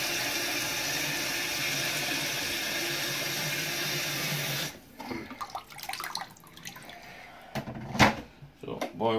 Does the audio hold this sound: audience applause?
no